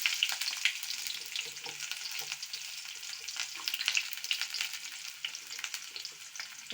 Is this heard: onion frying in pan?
yes